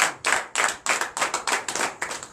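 A small group clapping in a steady, quick rhythm at a church service, about ten sharp claps close by, with no voices.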